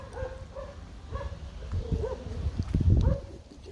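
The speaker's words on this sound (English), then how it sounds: "That's the sound of Smarty Pants without a piece of meat." A big cat whines and whimpers while waiting without a piece of meat, in a series of uneven close cries that build toward the end, with some background noise.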